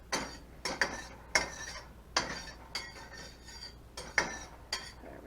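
Chopped onions and peppers pushed around a pan with a utensil, giving a series of sharp metallic scrapes and clinks in an uneven rhythm, close and clear with no talk.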